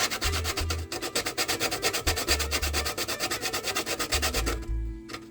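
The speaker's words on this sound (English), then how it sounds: "I'm gonna grate my nutmeg for my drink." Whole nutmeg rasped against a grater for a Jamaican soursop drink, a fast steady run of dry scraping strokes close up with brief pauses between bursts, no talking.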